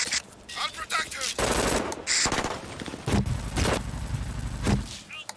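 Gunfire in the team shooter game Brink, with bursts of rapid automatic shots and impact thuds coming in clusters, loud and close, interleaved with brief gaps.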